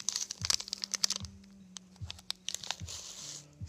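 Close plastic snack packaging from a Japanese food pack crinkles and crackles in short, irregular bursts while it is handled and a snack is pulled out, with small taps and rustles between.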